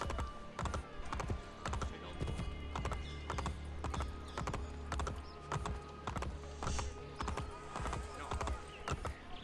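Steady rhythmic hoofbeats of a galloping horse in the video game Assassin's Creed Brotherhood, clattering close and evenly over a low background hum, with a few brighter thuds mixed in.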